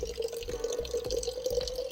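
Battery-powered water pump running as it fills a bucket with water, a steady close trickle with drips and splashes continuing throughout, no talking.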